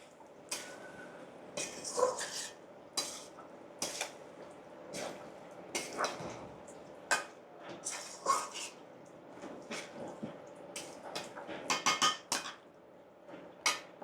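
Metal spoon scraping and clinking in a pot while chickpea dal is stirred together with liver, a series of sharp, uneven knocks and scrapes, close by, with brief pauses between strokes.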